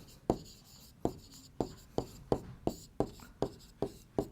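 Pen or chalk writing out a math answer, a series of about ten sharp taps and short strokes at a steady pace, close and fairly quiet, with no voices.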